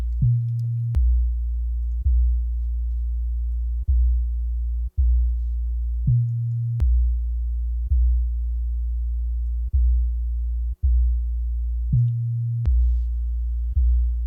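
An 808-style bass sine tone hums steadily and loud, retriggered in a regular pattern of repeating notes with brief gaps, set up while preparing a beginner's mix.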